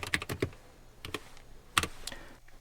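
Computer keyboard typing during a Motorola Moto G67 unboxing: irregular bursts of close, crisp key clicks with short pauses between, and no talk.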